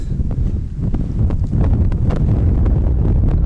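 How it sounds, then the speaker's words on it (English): Strong wind buffets a Sony FDR-X3000 action camera's microphone in loud, continuous rumbling gusts, with light rustling on top. "It's extremely windy, but it's beautiful."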